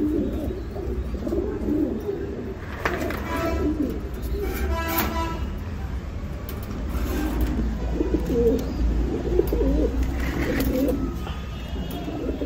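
Pigeons coo nearby in low, repeated throaty calls, with a steady low rumble in the background.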